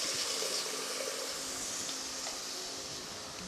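Dissolved tamarind water pours steadily for a few seconds for a tamarind brinjal pachadi, a continuous close splashing stream with no talk over it.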